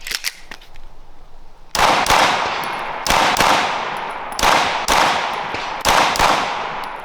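Gunshots fired in quick pairs with a stock trigger: sharp, loud cracks in about five doubles spaced roughly a second apart, each pair ringing out and decaying, with no talking.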